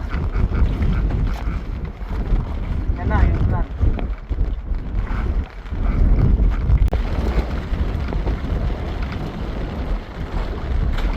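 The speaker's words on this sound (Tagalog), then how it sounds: "Maraming lakas na ng hangin." Strong wind roars and buffets the microphone outdoors at a jigging fishing tournament, with rumbling engine-like noise, water movement and brief shouted voices.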